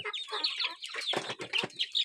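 Chickens cluck and chatter continuously in a coop housing Burmese gamefowl, several birds calling in quick overlapping bursts, close and fairly loud.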